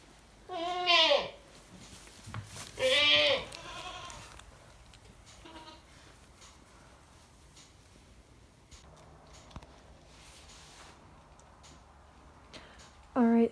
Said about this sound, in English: I'm here checking on the goats, and Calliope is actually letting Primrose's